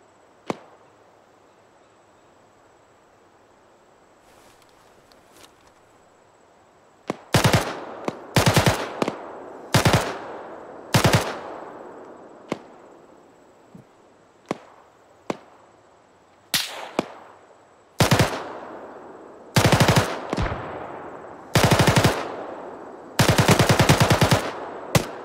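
Gunfire in the ArmA 3 military shooter, loud bursts of automatic fire and single sharp shots spread across the stretch with short quiet gaps between volleys, one long sustained burst near the end.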